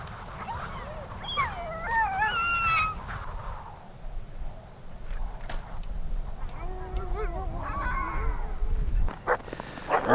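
Sled dogs out in the wilderness about ten miles from Churchill in winter give long wavering howls and whines at night, some near and some farther off, over a steady low background.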